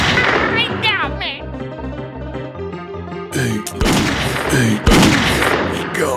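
Gunshots ring out in the Grizzly Gulch video game: a few sharp loud bangs near the end over layered game music and sound effects, with a voice also present.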